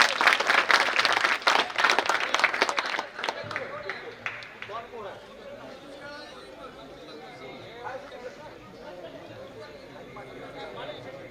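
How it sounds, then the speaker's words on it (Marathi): A crowd at a traditional wrestling bout claps and cheers for the winning wrestler in a loud burst of applause, which fades after a few seconds into scattered crowd chatter and someone talking. "पैलवान प्रमोद सुवर्ण टाळ्या करा सर्वांनी"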